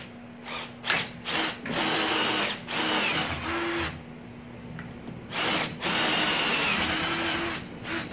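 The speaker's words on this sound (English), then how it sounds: "Take it, we'll drill it out." A power drill whines in repeated bursts, starting and stopping several times with short pauses, loud and close, biting into a metal winch mount for a receiver hitch.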